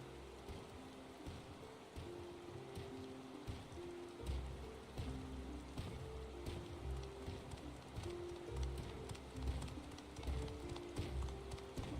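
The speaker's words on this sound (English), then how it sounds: "Is it ever gonna stop raining this place?" Steady rain patters throughout in Final Fantasy XIV: Dawntrail, with a low rhythmic clopping and a faint musical tone underneath; no one speaks.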